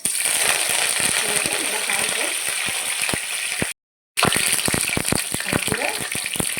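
Mustard seeds, cumin, fenugreek and curry leaves spluttering in hot oil for vatha kuzhambu, a dense crackling hiss scattered with sharp pops, broken by a brief silent gap before the popping resumes.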